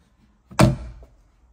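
A large drawer on locking runners in a T6 camper van, one firm close with a sharp wooden thud and brief rattle, close up and otherwise quiet.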